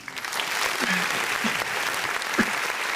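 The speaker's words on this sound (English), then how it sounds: "You guys clapping too much." Loud, dense clapping from a crowd, steady and sustained throughout without a break.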